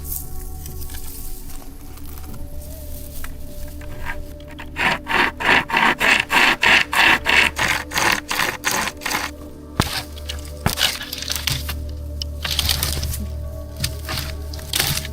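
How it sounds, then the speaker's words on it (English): A pocket chain saw, a saw chain pulled between two fabric handles, rasps through firewood at a campsite in quick, even back-and-forth strokes that are loud and close, pausing and resuming with woody scraping. "I have this pocket saw, it's called, like a chain from a chainsaw here with 2 fabric handles"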